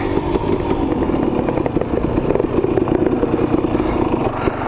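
A KTM 250 XC two-stroke dirt bike engine buzzes and revs continuously while riding, close and loud with a rattly, crackling texture throughout, no talking.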